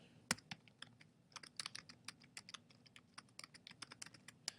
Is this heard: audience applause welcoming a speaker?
no